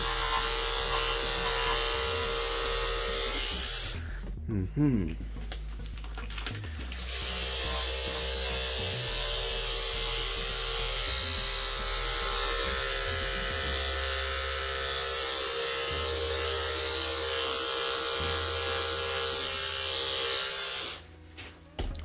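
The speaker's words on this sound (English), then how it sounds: "now that we have finished the first round with the clipper on this side" Electric hair clipper buzzing steadily and loudly while trimming a dog's coat, with a couple of brief pauses near the start as the blade lifts away, then continuous close-up drone.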